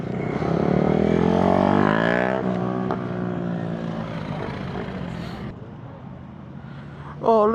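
Motorcycles rev and roar at a crowded bike meet, with a loud engine sweep up close that fades into a rumbling crowd of bikes and a sharp rev at the end.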